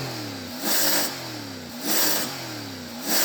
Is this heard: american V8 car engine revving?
yes